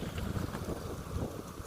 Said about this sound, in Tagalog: Dito kasi ang lakas ng hangin, narinig nyo naman